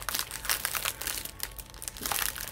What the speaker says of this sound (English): there will be crinkling in this